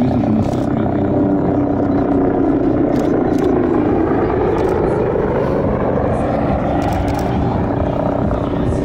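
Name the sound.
helicopter at an air show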